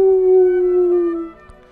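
A single long wolf-like howl rises and holds steady, then fades out after about a second and a half. It sounds close and clear, with no talking over it.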